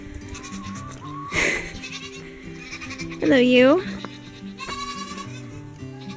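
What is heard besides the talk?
goats bleating on a farm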